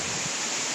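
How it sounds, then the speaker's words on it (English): Gusty wind ahead of an approaching severe thunderstorm, a loud, steady broadband rush like surf in a brief burst, with no voices over it. "Oh, here comes the wind."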